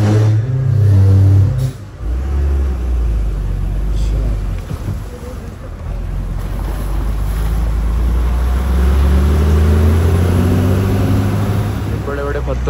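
Car engine revving loudly and steadily while reversing on a landslide-blocked Shimla to Solan highway in wet weather, a continuous close drone with wind rumble and a brief dip near the start.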